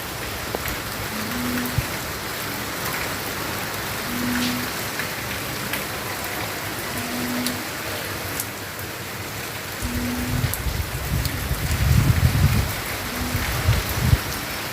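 Steady rain falls outdoors, a dense even hiss of drops on surfaces that carries on throughout, growing heavier with a low rumble toward the end, with no voices.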